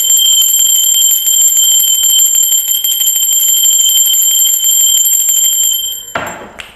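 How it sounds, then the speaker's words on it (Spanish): A bell rings loudly and continuously in a sustained, shimmering tone with fast repeated strikes for about six seconds, then stops abruptly and is followed by a brief rustling noise. "Muy bien, va campana."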